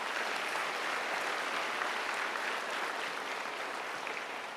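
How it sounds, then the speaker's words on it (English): Sustained, even applause from a large audience at a college commencement for science, engineering and math graduates, heard from a distance and fairly faint, tapering slightly toward the end. "Let's give her another round of applause."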